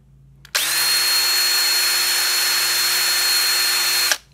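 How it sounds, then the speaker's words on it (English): A two-speed power drill spinning freely on its faster second setting, a steady high-pitched whine that starts abruptly, holds constant for about three and a half seconds, then cuts off; close and loud with no talk. "So this is a 2-speed drill, which is real common."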